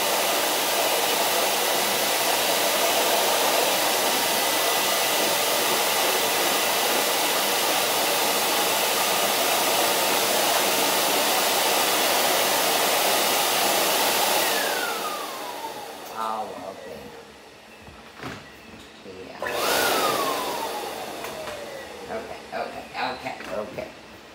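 A powerful pet blow dryer drying a poodle roars steadily and loudly, then cuts off with a falling wind-down whine, briefly restarts and spins down again amid handling noises.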